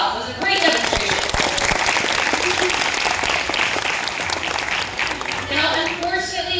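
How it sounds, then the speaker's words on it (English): Sustained applause from a zoo audience after a sea lion show demonstration, a dense wash of clapping with crowd voices and some speech underneath. "Round of applause."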